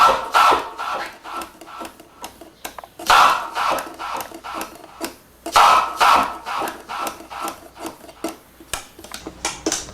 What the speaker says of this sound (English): at the same time gradually moving the fader from 10 to 7 to 5 to 3 to 0.